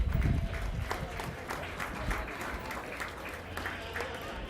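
Crowd applause for the youth exhibitors at a county fair sheep show, a moderate steady patter of clapping in a large barn-like space with low rumble and a faint voice underneath.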